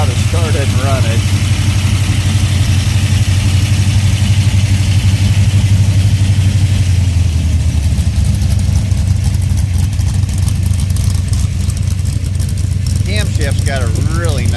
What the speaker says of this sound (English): Camshaft's got a really nice idle to it. Idle's about 900, maybe 850.